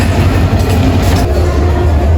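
Ekota Express, a Bangladeshi passenger train running from Dhaka to Panchagarh, rumbles past near Santahar railway station with a steady, loud low rail drone and continuous wheel rattle throughout.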